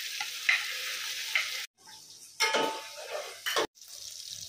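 Chicken pieces drop into a pan of softened ginger and tomatoes and sizzle loudly, the frying hiss swelling in bursts and cutting out briefly twice as it is stirred, close and without talk.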